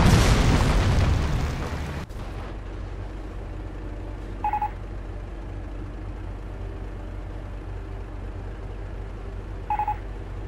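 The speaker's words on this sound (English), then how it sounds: "Reports from Intel indicate an enemy Hotchkiss destroyed." A Hotchkiss tank is destroyed in the Company of Heroes video game with a loud booming blast that rumbles for about two seconds. Low battle ambience and two short electronic beeps follow.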